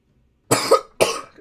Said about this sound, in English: I'm just starting coughing now.